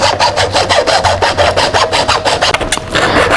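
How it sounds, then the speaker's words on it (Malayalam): A hand saw cuts through a piece of wood while a flute is being made, a loud, steady back-and-forth rasp of closely spaced strokes running the whole time, close up and with no talking. "അതിനുവേണ്ടി നമുക്കത് പീസ് കട്ട് ചെയ്യാം."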